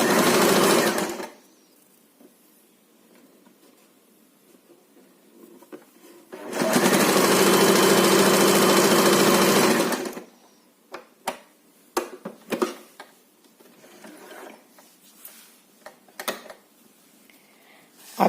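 A sewing machine stitches fabric pieces together for a bedspread made from old clothes. It runs in two steady, loud bursts separated by a pause, and scattered clicks and handling knocks of cloth and machine parts follow.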